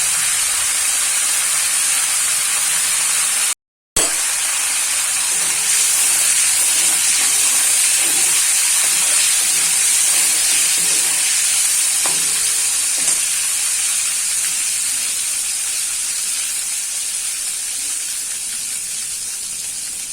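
Bay leaf, cardamom, cloves, cinnamon, dried chillies and cumin sizzle in hot oil while cooking potol chingri, a loud steady frying hiss that runs on alone and breaks off for a split second early.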